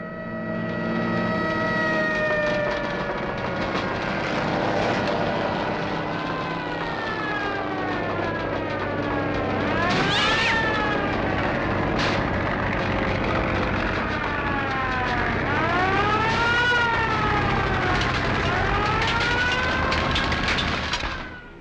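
Fire engine sirens from a nearby firehouse wail loudly and continuously, rising and falling in overlapping sweeping tones with rumbling traffic underneath, close and dominant throughout.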